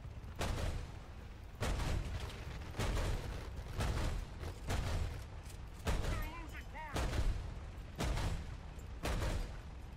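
A Bofors gun fires in the War Thunder video game, loud booming shots repeating at a steady, deliberate pace of roughly one every second, each one trailing a short rumble.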